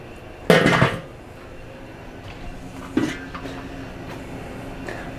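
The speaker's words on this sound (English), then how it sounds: "Let's get a lid on them." A metal lid clanks onto a Weber kettle-style charcoal grill holding marinated tri tip kabobs on a Napoleon rotisserie, one sharp clatter followed by a softer knock a few seconds later.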